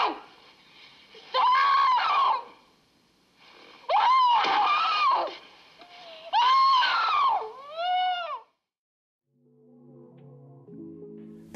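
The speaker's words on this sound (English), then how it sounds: "her terrified screams filling the dark room where the tape plays" A terrified woman screams on a tape recording in a film, three long, loud, wavering cries separated by short pauses, then a final shorter wail before silence and faint low music.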